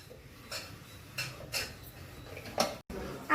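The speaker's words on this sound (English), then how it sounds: "Place the pan in the cooker." Metal clatter of a pan set into a pressure cooker in a home kitchen: several sharp clinks and knocks at irregular intervals, close and fairly quiet, against a low background.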